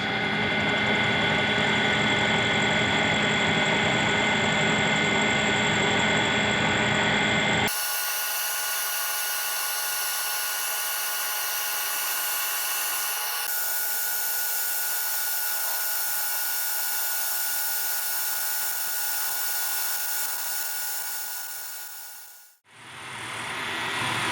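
High-speed steel end mill on a milling machine feeding across a clutch shaft, a loud steady machining whine with abrupt shifts in tone partway through before winding down near the end.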